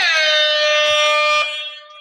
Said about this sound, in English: I never get tired of air horns.